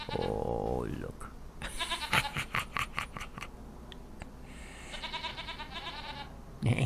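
Goats in the Farming Simulator 25 game bleat repeatedly in a cluster of wavering calls, close and fairly loud, with someone talking over and between them.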